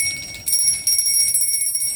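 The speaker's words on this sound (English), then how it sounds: "Hit the ping bell button." A short, bright notification bell ping rings with sustained high tones, repeating lightly for about two seconds against a faint low background.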